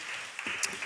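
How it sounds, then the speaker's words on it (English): Audience applause at an artist talk event, a brief burst of clapping from the crowd heard up close and moderately loud, with no talk over it. "Yeah, you can clap."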